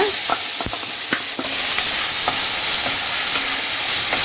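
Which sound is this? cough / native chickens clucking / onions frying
onions frying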